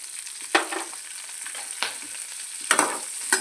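Green chillies and cumin seeds fry in oil for a green chilli and gongura chutney, giving a steady close sizzle broken by a few sharp stirring scrapes, with no talking.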